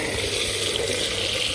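Water pours steadily into a clay pot, a continuous close rushing splash with no pauses.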